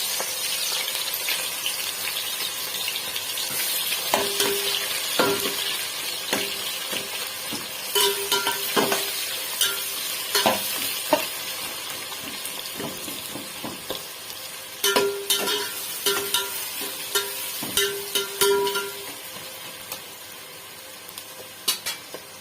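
Sliced onions sizzling in hot oil for a mutton curry, a steady fry broken by repeated scraping stirs and clinks of a spoon against the pan, close and fairly loud with no talking.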